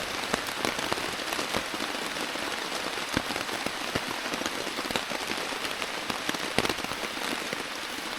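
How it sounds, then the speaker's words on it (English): Steady rain falls outdoors on a motorcycle trip, a dense, even hiss with scattered close, sharp drops tapping on a nearby surface throughout. "Gets old when it rains every day."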